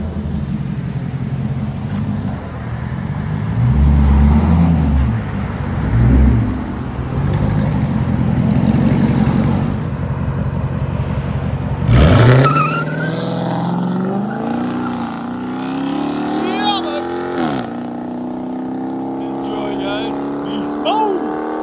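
A Chrysler 300C with a 5.7L HEMI V8, comparing a straight-pipe exhaust against a Magnaflow Magnapack, rumbling loudly at idle, then revving sharply with rising pitch, with voices over the engine.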